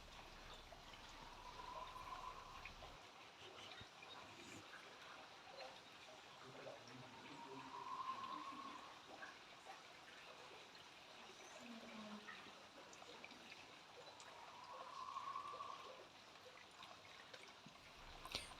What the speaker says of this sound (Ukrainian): зюрчить водичка всюди, струмочки зюркотять